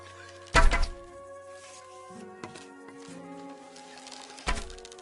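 Arrows striking an archery target in Kingdom Come: Deliverance 2: one loud, punchy thunk early, a softer knock midway, and another firm impact near the end, over low game ambience.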